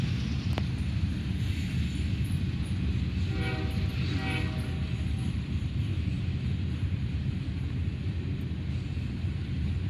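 A CSX freight train hauling a long string of boxcars, including old Conrail cars, rolls past near Greenwich, Ohio, a steady loud rumble throughout with a brief horn-like tone in the middle.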